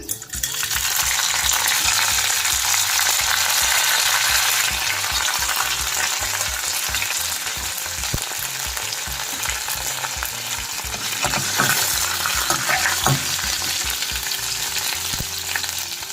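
Mustard seeds, chana dal, urad dal, curry leaves and a dry chili sizzle and crackle steadily in hot oil for coconut rice, with a constant loud frying hiss and occasional stirring scrapes throughout.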